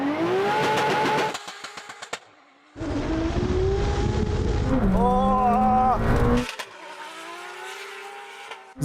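A McLaren Senna and a 1200 hp Lexus race hard, their engines roaring loud and close with rising revs, gear changes and brief lifts, one car pulling away while a voice talks over the noise.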